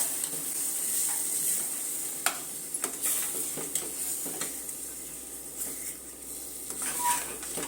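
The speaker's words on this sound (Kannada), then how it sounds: "ಚೆನ್ನಾಗಿ 1-2 ನಿಮಿಷ ಹುರ್ಕೊಳ್ಳೋಣ" Ground masala paste for curry leaf chicken chops sizzles steadily in a pan while a spoon scrapes and taps the metal now and then; the sound is close and constant, with no talking.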